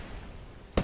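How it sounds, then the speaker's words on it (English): A grenade goes off in Apex Legends as a single sharp, loud blast near the end, after a stretch of quiet low game background. "Oh, you got grenaded."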